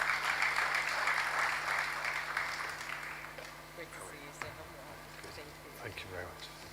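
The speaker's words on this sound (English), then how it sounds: "Please, a round of applause for him." Applause from an audience at the launch of a national immunization coverage survey, a dense wash of clapping that starts loud and gradually thins and fades over several seconds, with a few scattered voices near the end.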